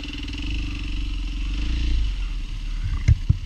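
Motorcycle engine on a hill climb, held at a steady droning rev for about two seconds, then dropping off, followed by a couple of sharp clunks near the end.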